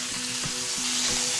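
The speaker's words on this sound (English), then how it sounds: "Turn the gas down now and leave that chicken to griddle." Chicken sizzles steadily on a hot gas griddle, a dense, close crackling hiss that holds even throughout, with faint low tonal hum and small bumps beneath it and no voices.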